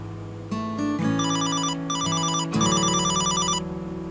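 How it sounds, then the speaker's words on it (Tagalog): A mobile phone ringtone plays nearby, a bright electronic melody with repeating bursts of chiming notes over a steady synth backing, loud and clear with no talking. "Cellphone ba yun ni Mahal?"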